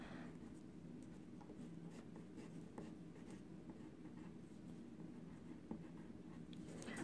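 A pencil traces the outline of a jar onto paper through an overhead transparency used as a stencil, giving a steady, continuous scratchy rubbing that runs the whole time, close and quiet, with no voices.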